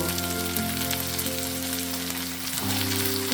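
Shredded cabbage stir-frying with oyster sauce in a hot pan, a steady, even sizzle with a continuous crackling hiss throughout, heard beneath a faint droning tone.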